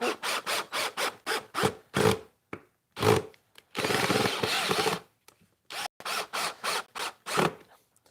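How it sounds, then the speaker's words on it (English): A hand screwdriver drives a screw into wood while building a model TIE fighter, giving rapid rhythmic ratcheting scrapes in bursts, close and fairly loud, with one longer continuous rasp midway. "If you're driving your screw and you find it's trying to push the 2 pieces of wood apart, just pull it out again"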